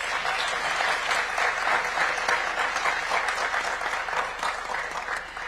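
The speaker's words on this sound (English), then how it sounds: "Please give them a round of applause." Sustained audience applause in a large hall at the Africa Forward Summit youth engagement session, steady, even clapping from a sizable crowd that holds for over five seconds and tapers slightly at the end.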